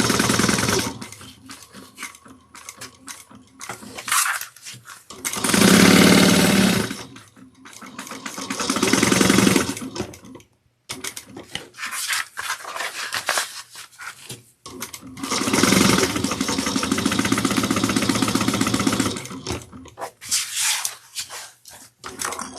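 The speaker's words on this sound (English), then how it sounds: "we're going to sew all the way around." A sewing machine stitches a pocket onto a handmade bag, sewing all the way around with backstitching at the start and end, in two long steady whirring runs separated by quieter pauses with handling rustle.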